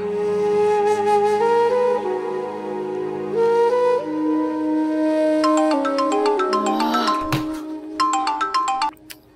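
A phone ringtone plays a repeated electronic melody loudly and unanswered for several seconds, ending abruptly, with no one speaking over it.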